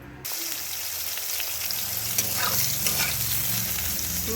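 Eggplant pieces drop into hot tempered oil for a tangra fish curry with beans, a sudden onset followed by a steady close sizzle with light stirring, no speech.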